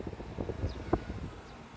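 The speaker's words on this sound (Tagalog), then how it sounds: "Malakas ang hangin." Gusty wind buffets the microphone beside a river in Japan on Children's Day, with low, uneven rumbling and rustling throughout, fairly quiet overall.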